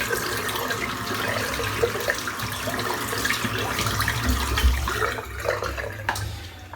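Tap water runs steadily as soap is rinsed out of a shaving brush at a sink, a close continuous splashing flow with slight changes as the brush moves under the stream.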